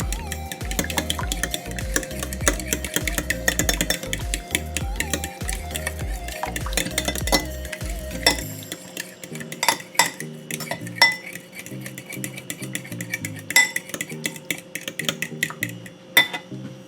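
A utensil stirs a hot pepper sauce mixture in a bowl, giving steady clinking and scraping for the first half, then sparser, separate taps and clinks against the bowl.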